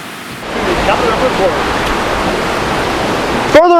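Šum waterfall in Vintgar Gorge near Bled, Slovenia, a steady full roar of falling water that fills the whole clip, with a brief voice near the end.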